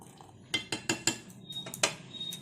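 Milk thickening in a pan with milk powder and sugar for homemade ice cream, stirred with a metal spoon that gives several sharp scrapes and clinks against the pan, close and fairly quiet, with no talk.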